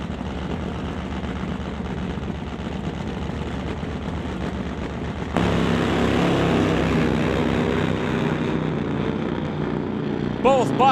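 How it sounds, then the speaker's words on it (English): Two nitro drag racing motorcycles make full passes down a quarter mile, a long droning engine roar that jumps suddenly louder halfway and holds at a thunderous, steady pitch, with a commentator's voice over it. "Both bikes on full pulls to the quarter."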